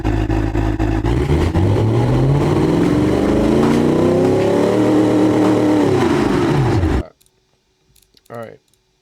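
A muscle car engine in the driving game Automation/BeamNG.Drive revs loudly and up close, sweeping up and down in pitch for about seven seconds before cutting off, followed by a brief voice.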